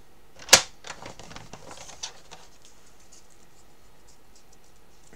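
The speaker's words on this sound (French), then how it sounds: "Je marque bien les plis." Folds in a sheet of paper are creased firmly by hand while building a scrapbook album page: one sharp crisp snap, then a run of soft scratchy rubbing strokes that fade into quiet.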